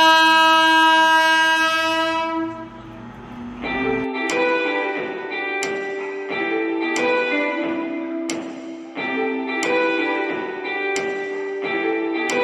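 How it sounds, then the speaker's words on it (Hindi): The Brahmaputra Mail at Old Delhi railway station sounds a long harmonic horn blast, then its wheels clack over rail joints in a steady, loud, repeating rhythm with no talk. "सही टाइम पर हम निकलते हैं ब्रह्मपुत्रा मेल में पुरानी दिल्ली रेलवे स्टेशन से"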